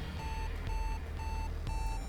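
A repeating electronic beep in the Axiom Verge video game, four evenly spaced steady tones pulsing over a constant low game hum.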